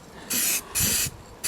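Aerosol spray paint hisses in short bursts onto a garden incinerator, two longer sprays then the start of a third, close with quiet background between.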